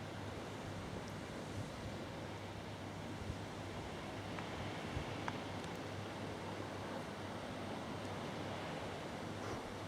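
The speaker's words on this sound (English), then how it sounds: "the desalination plant with a load of excess water flowing out back into the sea" Excess water from a desalination plant pours out into the sea along the Jersey coast, a steady broadband rush mixed with wind buffeting the microphone, fairly faint and continuous.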